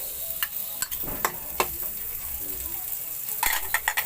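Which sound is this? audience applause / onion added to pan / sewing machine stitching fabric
onion added to pan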